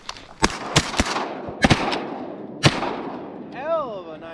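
Shotgun blasts at teal from a duck boat blind, several loud nearby shots in quick bursts with echoing tails, followed by a duck call near the end.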